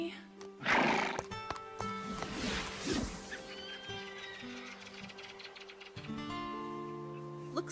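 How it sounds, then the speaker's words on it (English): Horses neigh and whinny loudly nearby in a couple of shrill bursts, with a soft steady background drone and faint hoof movement between the calls. "when horses neigh to each other, it's about status and rank"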